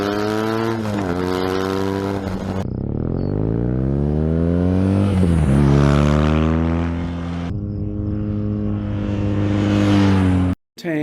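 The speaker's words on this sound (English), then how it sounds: "I'll play you a little clip of the stock exhaust." A BMW R nineT/5 motorcycle engine on its stock exhaust revs up and down repeatedly, rising and falling in pitch, close and fairly loud.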